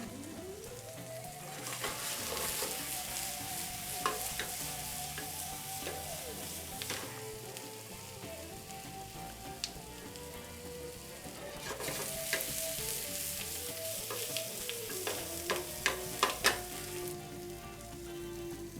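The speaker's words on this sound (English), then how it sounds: "We want the onions and the jalapenos to just start to char up just a little bit." Onions and jalapenos charring in a hot pan, a sustained crackling sizzle punctuated by spoon scrapes and clatters, growing busier toward the end, with no one talking.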